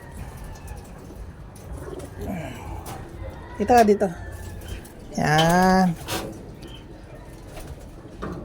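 A pigeon-like bird coos in two short bursts, close by, while a person speaks quietly nearby.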